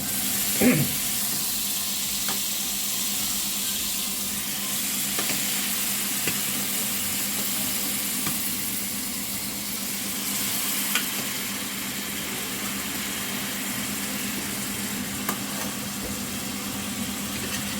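Beef sears in a pan with golden-browned garlic, giving a steady, even sizzle that runs unbroken throughout with a low background hum and a few faint clinks.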